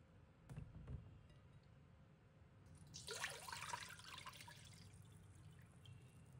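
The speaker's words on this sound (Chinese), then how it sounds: "只需用手轻轻搅拌，抓洗几遍，把表面杂质洗净即可" Glutinous rice swirled and rinsed by hand in a bowl of water, a burst of splashing and trickling that builds after a few quiet drips and then continues as a steady watery churn.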